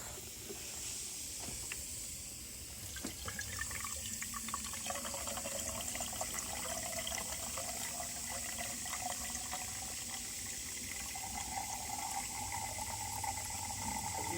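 Faint, steady trickle and hiss of liquid being poured into a Mercedes W124 during a viscous coupling replacement, continuous and quiet, with a low background hum and no voices.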